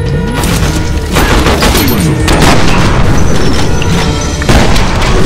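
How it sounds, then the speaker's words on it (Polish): Heavy, continuous gunfire and booming blasts in the game F.E.A.R. Perseus Mandate fill the scene, loud and dense, with sharp cracks layered over a constant rumble. "Dwa strzały z odpowiedniej odległości po gościu."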